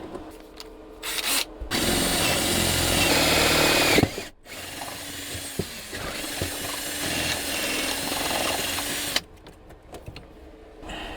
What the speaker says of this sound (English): while I'm here drilling holes to the bottom of the van